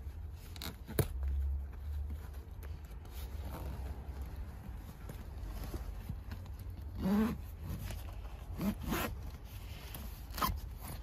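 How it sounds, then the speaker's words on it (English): A zipper on a custom leather rear 60/40 bench seat cover in a 10th-generation Honda Civic is pulled down in a few short rasping runs, close and fairly quiet over a low steady background hum. "pull this up as much as you can, then zip it down"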